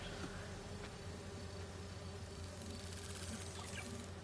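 Bees buzz constantly inside a virtual hive simulation in the Spider-Man video game, a soft, dense, continuous hum at low volume with no talking.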